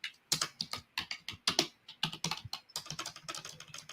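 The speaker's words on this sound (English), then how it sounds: "that's the loudest typing I've ever heard" Loud, rapid clacking of keys on a computer keyboard, fast irregular typing bursts with short pauses, close and alone without any voices.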